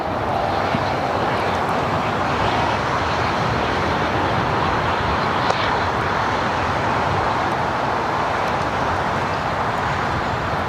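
A Delta Airbus A350 bound for Paris takes off at LAX, its engines making a steady broadband roar that holds at an even, distant level throughout with no pauses.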